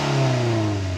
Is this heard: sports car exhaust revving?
yes